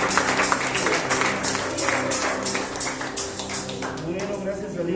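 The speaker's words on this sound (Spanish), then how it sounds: "Dar una ofrenda de palmas al Señor más fuerte" A church congregation claps hands as an offering of praise, with a steady fast rhythm of many hands mixed with music and voices.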